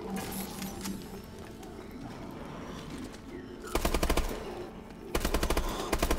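Rapid automatic gunfire from an upgraded gun in Advanced Warfare Exo Zombies on the Outbreak map, two loud close bursts of tightly spaced shots over a steady bed of game ambience and faint cooing birds.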